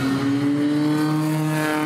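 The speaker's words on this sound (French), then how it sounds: "on essaie une voiture de course" A Formula Renault race car engine holds a steady, loud, high-pitched drone at near-constant revs, close and continuous with no voices.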